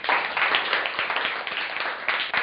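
Classroom applause from a group of students, a steady dense patter of many hands clapping nearby for a couple of seconds.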